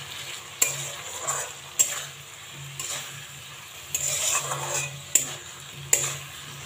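A spoon stirs poppy seed paste with a little water in a small bowl, giving a run of soft wet scraping strokes punctuated by several sharp clinks against the bowl's rim, close and fairly quiet.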